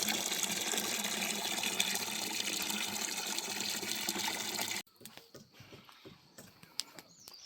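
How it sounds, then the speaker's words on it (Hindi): Water gushes steadily onto trees at a hill farm in the Pahadi village countryside for about five seconds, then cuts off abruptly, leaving quiet outdoor ambience with faint scattered sounds. "तो उसको बचाने के लिए, पेड़ों को बचाने के लिए कुछ पानी डाल दिया जाए।"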